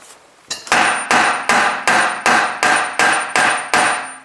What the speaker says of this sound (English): Now I hit that even more.